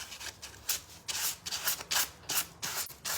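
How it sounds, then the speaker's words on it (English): Light, flexible sandpaper rubs over a still-damp recycled picture surface in quick, close back-and-forth strokes, each pass a soft hissing scrape in an uneven rhythm. "I'm not using a very heavy sandpaper, and it's a flexible one, so I'm hoping that even though it's kind of damp still, I can smudgel it, get it off."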